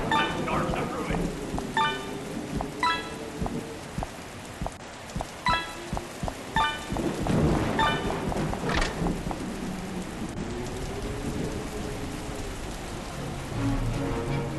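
Stormy weather in the video game Five Nights at Freddy's: steady rain patters throughout while heavy thunder rumbles and cracks roll in several times, loud and close, with no speech.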